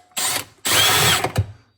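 A power drill bores a pilot hole in two close, steady bursts of whining motor noise, a short pause between them, then a brief rattle as the tool winds down.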